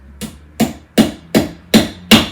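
Six sharp hammer blows land in a steady rhythm while assembling IKEA furniture, each a crisp close impact with a short ring, nothing else in between.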